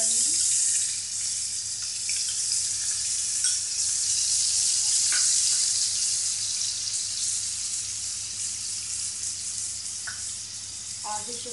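Chopped onion hits hot oil tempered with cumin in a kadai, giving a loud, steady sizzle that runs throughout, with a few faint clicks of stirring.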